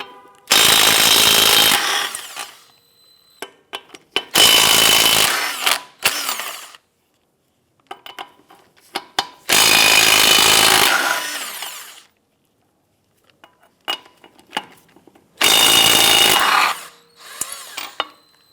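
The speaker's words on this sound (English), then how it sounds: "Using a 21mm socket, we're going to loosen and remove the lug nuts." A power tool fitted with a 21mm socket spins off the lug nuts on a 2007-2012 Nissan Versa in four loud bursts of buzzing whirring, with clanks and rattles in the quiet gaps between.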